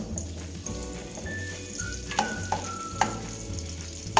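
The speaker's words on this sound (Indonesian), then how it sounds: "kita akan menumis bawang putih dengan bawang merah" Garlic and shallots sautéing in a pan give a steady sizzle and frying crackle, with close stirring scrapes and a few sharper clinks of a utensil against the pan, alone without talk.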